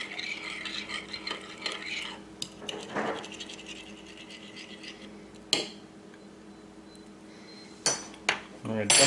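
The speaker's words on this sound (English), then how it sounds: "I'm going to stir that up. Get that fully dissolved in there." A spoon scrapes and clinks against a cup while brown sugar is stirred into half a cup of water, with soft irregular scratching and a few sharper knocks between quiet stretches.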